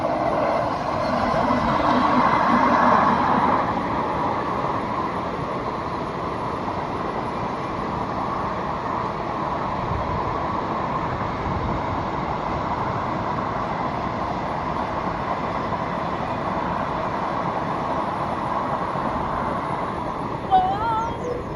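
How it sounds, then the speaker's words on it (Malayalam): A train rolls along a coastal railway near Bekal in Kasaragod, heard as a long, continuous rumble and clatter. It swells slightly early on, then holds steady at moderate loudness, with no talking. "ട്രെയിൻ സ്പോട്ടിംഗ് ആണ്."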